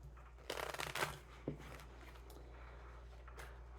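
Tarot cards are shuffled in quiet, brief riffling bursts close to the microphone, followed by a few soft taps and rustles over a low steady hum.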